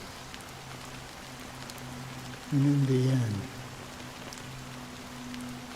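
Steady rain falls in a Honkai Star Rail game scene, a constant soft hiss throughout with a brief voice speaking over it midway.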